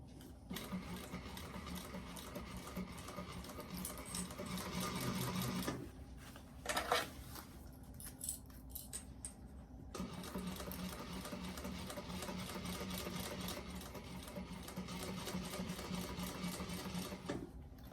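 A sewing machine stitches a bag in long steady runs, pausing briefly in the middle with a few clicks and handling noises before stitching resumes at an even pace.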